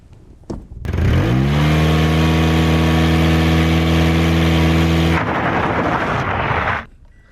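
A Toyota Corolla's engine is held at high revs for a launch-control start, a loud sustained drone of about four seconds that climbs quickly, holds steady, then cuts off and is followed by a short rush of noise.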